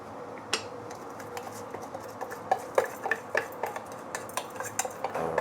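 A utensil stirs cooked rice with mustard greens in a pan, giving irregular scraping clinks and taps against the metal at close range over a low background hiss.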